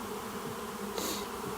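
Honeybees at an apiary hum in a continuous, steady buzz close by, with a brief burst of brighter hiss partway through and no voices.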